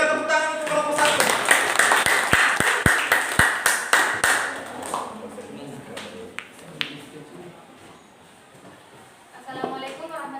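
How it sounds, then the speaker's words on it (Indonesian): A classroom applauding a student group during a physics lesson on Archimedes' principle: a short burst of scattered hand claps over a couple of seconds, mixed with voices, then mostly talk and a few isolated taps. "Berikan tepuk tangan untuk kelompok 1."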